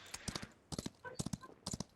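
Rhythmic clip-clop of horse hooves in a video game, in quick groups of beats, crisp and close, with brief pauses between strides.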